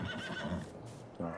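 Horse in the video game Farming Simulator 22 giving a short, clear whinny, with a brief second call near the end, fairly faint and alone.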